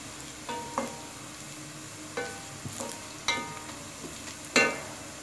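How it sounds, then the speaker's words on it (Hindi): Steady hot-oil sizzle of whole spices frying, with a handful of sharp clinks and scrapes from stirring, close up and without any talking. "ये चीज़ ऐड करके इसको सिर्फ 1 मिनट, इसको सिर्फ चंद सेकंड फ्राई करेंगे"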